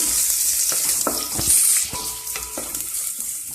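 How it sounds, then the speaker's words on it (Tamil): Onion and green chillies fry in a pan with a loud, bright hiss, and a few clicks and scrapes of stirring sound close by. "நல்லா வெங்காயம் செவந்து வரட்டும், அது வரைக்கும் ஃப்ரை பண்ணுங்க"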